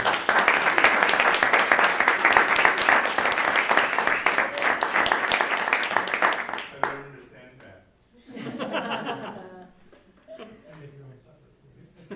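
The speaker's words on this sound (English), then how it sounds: "Let's give a round of applause." A school board meeting audience claps for Bob in a sustained, dense burst that stops abruptly around the middle, followed by scattered chuckles and nearby talking.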